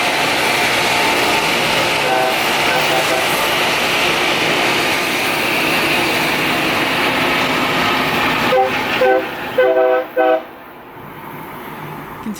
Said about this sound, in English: they used every single horn, buzzer, and siren on the train